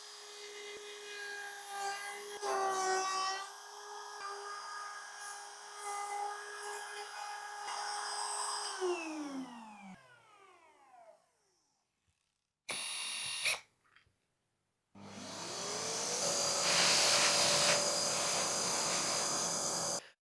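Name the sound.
flush trim router bit cutting a wooden bearing seat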